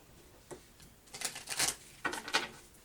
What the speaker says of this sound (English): just a few more shuffles here and then we'll get started